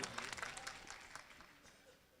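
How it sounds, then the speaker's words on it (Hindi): An audience applauds at a mushaira poetry gathering, a dense burst of clapping that starts strong and gradually thins and fades over two seconds. "एक जोरदार तालियां बजा रिजवान साहब के लिए।"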